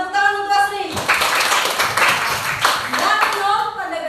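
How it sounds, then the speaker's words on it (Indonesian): A classroom of children claps for a classmate during a maths lesson, a brisk burst of close, crisp hand claps that starts after a moment of an adult talking, with voices returning as it fades. "Iya, tepuk tangan untuk Sri."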